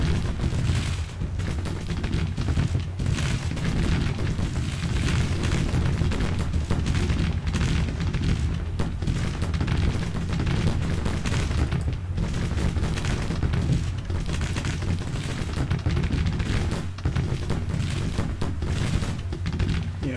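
Massed musket volleys in Grand Tactician: Civil War, a dense, continuous crackle of distant gunfire with low booming rolling steadily underneath, unbroken and without talk.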